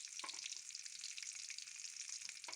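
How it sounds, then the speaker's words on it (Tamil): Red chillies, ginger and garlic sautéing in a pan for spicy chutney, a bright continuous sizzle with a few soft stirring taps, fairly quiet and close, with no talking. "நல்லா வதக்கி விட்டுக்கலாம்"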